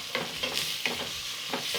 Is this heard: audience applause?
no